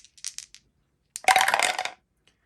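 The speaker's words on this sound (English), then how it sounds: "So we roll 2 dice to see where group O's go" Two dice rolled for a board game, a few light clicks as they are gathered, then a loud cluster of hard rattling clicks as they tumble and settle, close and without voices.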